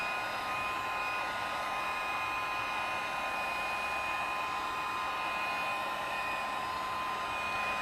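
A hair dryer runs steadily, drying collage paper for cutting into artist trading cards; a constant close airy whoosh with a fixed motor whine fills the whole stretch, with no talk.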